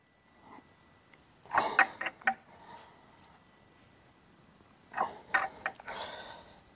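Nut on a concrete anchor bolt being tightened with a 19 mm wrench, a few short metallic ratcheting clicks in two separate bursts, close and moderately loud against quiet background.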